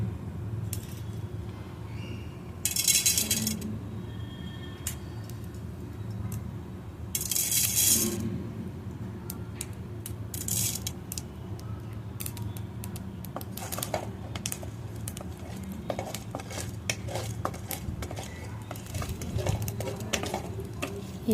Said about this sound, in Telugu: తర్వాత నూనె వేసుకొని వేడయ్యాక